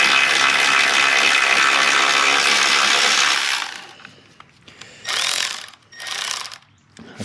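A wrench loosens the negative battery terminal nut on a 2012 Dodge Journey with a 2.4L engine: a loud, dense stretch of metallic mechanical noise, then a quieter run of ratcheting clicks and short bursts.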